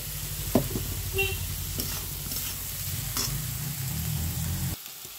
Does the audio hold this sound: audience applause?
no